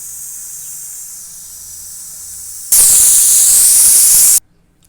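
A pressure cooker of sambar vents its steam: after a quiet hum comes a loud, sharp hiss lasting about two seconds that cuts off abruptly.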